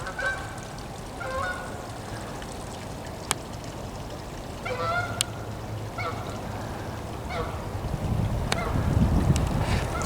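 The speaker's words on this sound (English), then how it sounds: "Here's some geese." Geese honk repeatedly outdoors at dusk near water, a scatter of nasal calls at moderate distance over steady ambient noise, with a louder rumbling swell toward the end.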